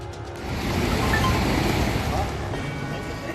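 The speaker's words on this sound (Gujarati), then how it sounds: "ભર ઉનાળે મચ્છુ 2 ડેમમાંથી ધસમસતા પાણી વહેતા થયા." Water released through the opened gates of the Machchhu-2 dam gushes into the river with a loud, continuous, broad roar that swells slightly and holds steady throughout.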